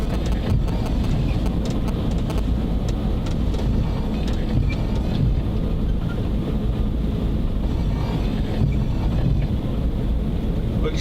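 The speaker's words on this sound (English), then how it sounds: "Engage the exhaust brake" Steady, loud truck engine roar in low gear with a rough, throttled exhaust note as the exhaust brake holds back the vehicle, continuous throughout with no talking.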